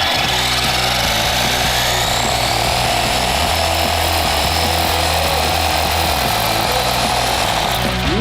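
A radio-controlled car fitted with saw blades instead of wheels grinds loudly and continuously, a dense harsh buzzing roar like a power saw cutting, sustained without pause.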